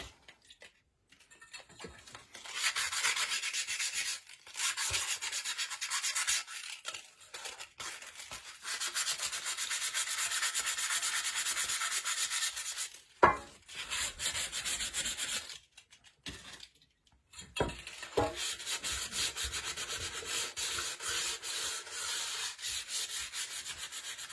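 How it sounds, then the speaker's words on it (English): Wet sandpaper rubbing on a Dollar Tree candle holder, a steady close gritty scraping in long strokes broken by brief pauses and a couple of small knocks, with no talking. "I'm just rubbing with my wet sandpaper"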